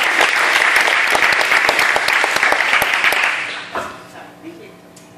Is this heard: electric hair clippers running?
no